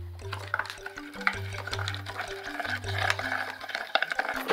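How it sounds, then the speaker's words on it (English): A straw bubbles through a cup of bubble paint, giving a steady close gurgling with low, wobbling burbles and small pops that rise and fall for several seconds. "We're gonna be blowing bubbles in our bubble paint to make patterns on our paper today."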